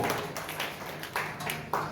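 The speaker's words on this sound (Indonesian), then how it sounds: "Tepuk tangan bagi Allah kita." A congregation at a Sunday worship service claps hands in scattered, uneven bursts, fairly faint and somewhat distant.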